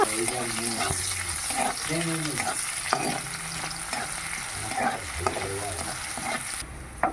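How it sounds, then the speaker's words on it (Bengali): Ginger and green chilli fry in a pan for a chow mein, a steady sizzle running throughout while a utensil scrapes and stirs in repeated strokes, close and fairly loud with no talking. "আদা দিয়ে দিলাম দিয়ে দিচ্ছি লঙ্কা"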